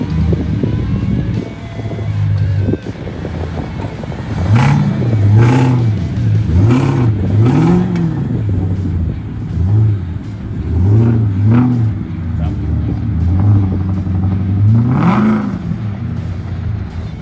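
A 1978 Ford F150 4x4 truck off-road, its engine revving up and down in repeated rising and falling surges, loud and close, with the pitch climbing and dropping over several pulls.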